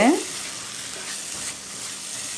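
Masala cooking in hot oil for a spicy paneer gravy, a steady broadband sizzle with scraping stir strokes against the pan, loud and close with no talking.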